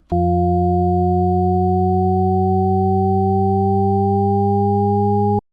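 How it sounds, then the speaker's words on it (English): A steady, buzzy synthesizer Shepard tone made in Phase Plant, with rich harmonics, holds for about five seconds, pitch edging very slightly upward from F before it cuts off. "the tone starts on F and it rises up until it reaches an F an octave higher"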